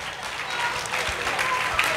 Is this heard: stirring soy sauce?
no